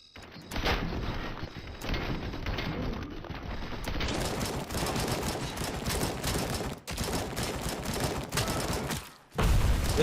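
Dense, rapid rifle fire in the game RoboCop: Rogue City, a near-continuous loud fusillade of shots that runs almost the whole time with a few brief gaps.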